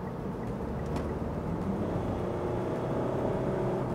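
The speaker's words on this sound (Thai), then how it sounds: "อันนี้คือจุดที่ต้องชมกันเวลาผมจะเร่งแซงนะครับเปิดไฟเลี้ยวขวาเหยียบ" A 2022 Mitsubishi Triton S-Limited Double Cab Plus GLS pickup accelerates to overtake, its engine giving a quiet, steady low rumble from inside the cabin with faint rising strain, and nobody talks.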